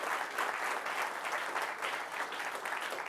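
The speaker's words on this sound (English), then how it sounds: "And for that, they need a round of applause," A crowd at a security conference gives a round of applause, a dense, even wash of many hands clapping at moderate volume that holds steady throughout with no talk over it.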